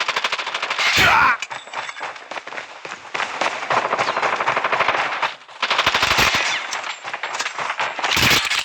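Rapid automatic gunfire in a Call of Duty match, long loud bursts of rattling shots separated by brief pauses, with sharper blasts near the start, middle and end, up close and dominating, with no voices over it.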